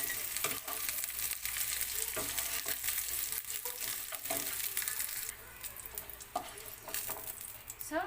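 Fried okra sizzles in a hot pan as it is lifted out, a steady frying hiss broken by repeated sharp clinks and scrapes of a utensil against the pan.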